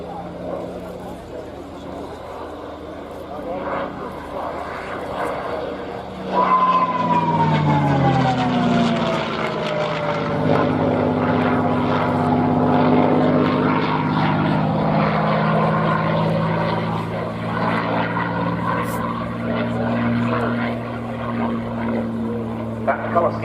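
A propeller aircraft at an air display at RNAS Yeovilton swells in from a distance into a loud, droning pass overhead, its engine tone bending as it goes by, while a commentator talks over it.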